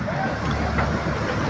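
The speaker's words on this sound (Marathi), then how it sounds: "ट्रेन येते समोरून, ट्रेन येते।" A train approaches from ahead on the Matheran hill route, with clouds around, as a broad, steady rumble that fills the clip while people talk nearby.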